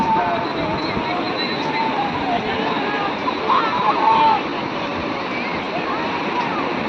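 Strong monsoon sea waves crash and churn in a continuous loud roar of surf and splashing water, with a brief swell of louder breaking partway through.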